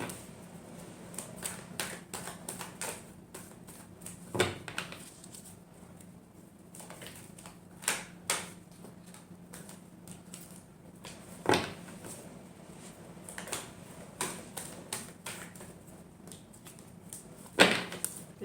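Tarot cards are shuffled by hand in a quiet room, a run of soft, rapid papery riffles and taps broken by several sharper knocks of the deck against a surface.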